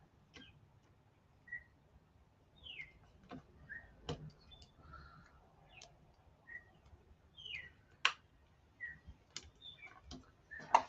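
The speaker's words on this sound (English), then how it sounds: "You hear that bird out there?" Faint, sparse bird chirps sound at a distance in a quiet room, mixed with occasional sharp clicks and taps.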